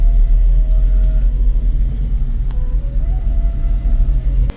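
Inside a moving Mahindra Bolero SUV, a heavy, steady low engine rumble drones close and loud throughout, with slight swells as the vehicle drives along.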